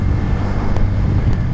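A Bajaj Pulsar N160 motorcycle engine held at steady throttle in third gear, a continuous low droning hum mixed with wind rush, close and loud, no talking.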